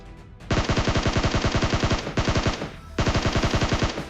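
Sustained automatic gunfire from PUBG Mobile, a rapid rhythmic spray in three loud bursts separated by short pauses, close and with no talking.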